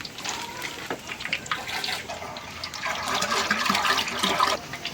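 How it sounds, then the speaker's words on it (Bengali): Water is poured into a large pot for cooking biryani, a continuous rushing splash that grows louder toward the end, heard alone. "এখন বিরিয়ানি রান্নার জন্য পানি দিতেছে মাইপে।"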